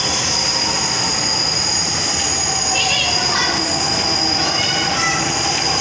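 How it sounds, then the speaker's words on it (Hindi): A train pulls into a busy New Delhi station with loud, steady rumbling and high wheel squeal that swells briefly midway, while crowd noise and voices murmur in the background. "ट्रेन आ गया।"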